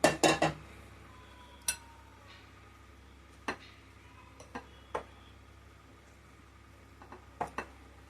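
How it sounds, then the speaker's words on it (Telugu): A spoon clinks sharply against a bowl in scattered taps while oil is stirred into a cucumber pickle, with quiet pauses between the strokes. "ఇప్పుడు ఈ ఆయిల్ని ఇందులో వేసుకొని కలుపుతున్నాం"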